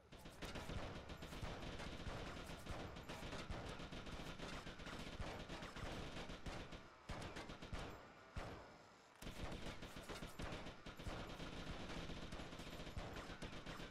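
Continuous heavy gunfire in GTA Vice City Hardlined, dense automatic shooting that barely pauses across the whole stretch, with one brief gap near the middle, loud and without talk.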